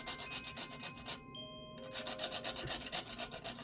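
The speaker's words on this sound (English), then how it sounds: "And I'm grating in some fresh nutmeg." Fresh nutmeg is grated into a Puerto Rican coquito, giving a steady run of close, dry rasping strokes in quick rhythm with a brief pause partway through.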